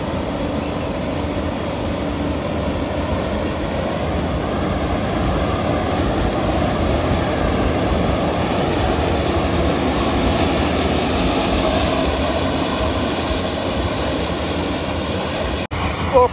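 A 40 HP farm engine runs steadily on a grain threshing machine in a field, a loud continuous drone with a constant rumble throughout, holding even until a brief cut near the end.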